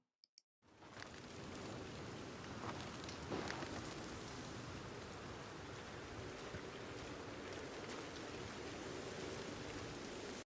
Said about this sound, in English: the fact that it's raining and windy